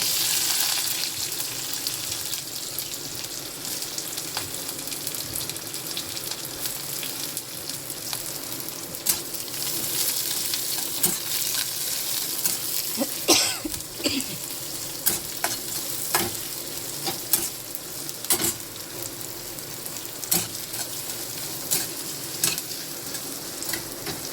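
Onion hitting hot oil with mustard seeds, green chili and curry leaves, giving a steady, loud sizzle with stirring scrapes and crackles throughout, no voices.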